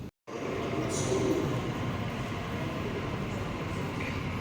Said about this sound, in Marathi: ही आता ट्रेन आली आहे, आता आम्ही जातोय मेट्रोने.